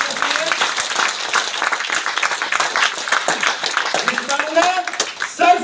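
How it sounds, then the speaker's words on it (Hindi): An audience at a product training and business plan meeting breaks into loud, crackling applause that rises and falls in waves, with voices and cheers mixed in. "जोरदार ताली होनी चाहिए।"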